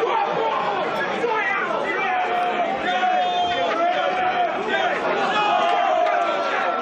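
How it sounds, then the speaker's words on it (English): Crowd at a K1-rules kickboxing fight night roaring and chattering steadily throughout, a dense excited din with shouts rising above it. "Crowd getting excited here."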